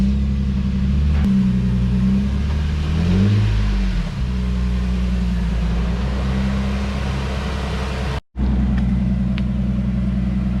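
Blue Lexus IS300 driving with a steady low engine drone and road rumble from inside the cabin, the pitch rising and falling as it accelerates, with a brief cutout near the end.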